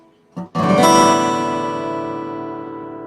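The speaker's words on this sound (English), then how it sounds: "Standard tuning on a guitar is" A guitar's open strings in standard tuning are strummed once after a brief lead-in, the full chord ringing loudly and slowly decaying, with no voices.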